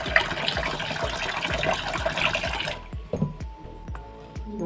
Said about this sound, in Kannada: ನೀರು ಹಾಕಿದ್ದೀನಿ ಇದರಲ್ಲಿ ನೋಡಿ, ಹಾಕಿ ಇಡ್ತೀನಿ